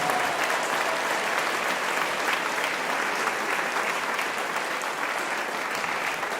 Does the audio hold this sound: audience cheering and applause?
yes